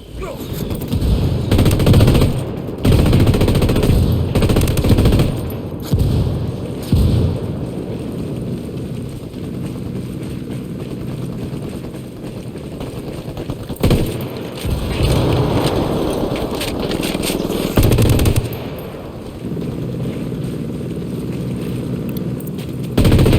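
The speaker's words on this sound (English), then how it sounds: "I called the rebels for mortar fire." Mortar barrage in the Ghost Recon Wildlands video game, with repeated heavy booming impacts and rumbling blasts spread across the scene, some bursts clustered and loud, others more distant, with no clear talk.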